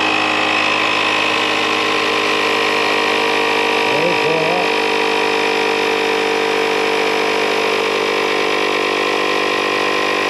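An air compressor fills the air bags on a 2021 F250 truck with a continuous, loud, even mechanical drone. A short warbling chirp rises briefly partway through over the unchanging hum.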